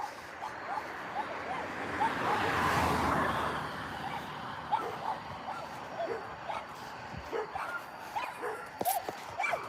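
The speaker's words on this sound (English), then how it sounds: "I heard more dogs." Several dogs bark and yip outdoors, with scattered sharp barks and whimpers at a moderate distance over a steady wash of traffic noise and a passing car.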